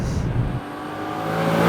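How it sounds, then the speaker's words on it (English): Lexus engine in Sport S Plus mode, tuned to sound like a Maserati GranTurismo, revs up loudly and up close, then eases into a steady, gradually building drone. "Engineer Koji Sato engineered the sound of this car to replicate that of the Maserati Gran Turismo"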